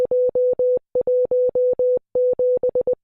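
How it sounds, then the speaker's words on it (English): Clean, steady tone beeps in long and short bursts with brief gaps, repeating in an irregular coded rhythm, loud and close with no other sound. "Decoding this will give you this Morse code."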